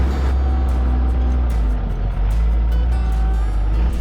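A 6x6 overland RV rolls off-road, its engine and drivetrain giving a steady, loud low rumble with rattling and road noise throughout.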